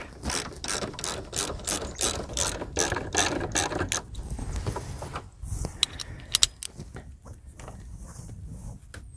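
A ratchet loosens the clamp bolts on the battery terminals of a 2001 Honda Accord LX V6, with about a dozen quick clicking strokes up close, then scattered metallic clinks and fumbling.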